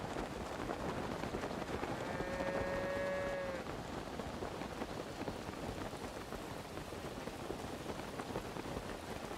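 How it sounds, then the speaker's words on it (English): Continuous rain pours down in the Breath of the Wild video game, a dense, even hiss of drops. A brief tonal whine rises partway through. "I'm going to have a very short wait till the rain stops"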